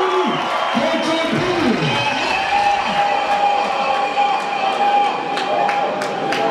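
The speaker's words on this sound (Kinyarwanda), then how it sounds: "amashyi menshi cyane kuri Ketchup." An audience at a live show claps and cheers for the performer Ketchup, a dense, continuous roar of applause with whoops and whistles, loud and close, with voices mixed in.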